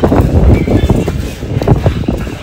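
Strong wind on Girnar hill in Gujarat buffets the microphone, producing loud, close, gusting low rumbles that swell and ease throughout.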